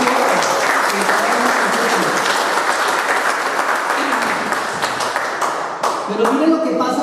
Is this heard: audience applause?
yes